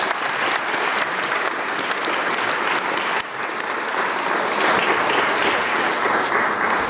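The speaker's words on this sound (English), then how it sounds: "Please, a round of applause" Sustained, dense audience applause fills the room after a panel talk on fighting disinformation and climate change, steady and loud throughout with a slight dip midway.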